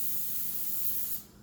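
Cooking spray hisses into an egg pan in one steady, close burst lasting just over a second, then quickly tails off.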